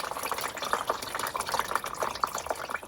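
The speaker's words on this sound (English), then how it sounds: "I have the hose back on now. I'm going to start to refill the radiator." A garden hose refills the radiator of a 1962 Morris Mini Minor with water, giving a steady close gurgling, bubbling trickle with small irregular splashy pulses.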